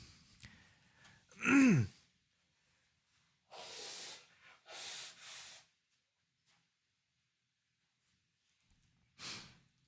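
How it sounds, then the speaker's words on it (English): Several short nasal sniffs, one sharp and louder followed by a pair of softer ones and a final quick sniff, close and isolated in an otherwise quiet room. "I got the Monday sniffles."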